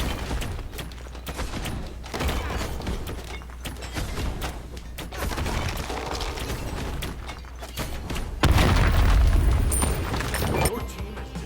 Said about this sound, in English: Your team has destroyed a right enemy tower.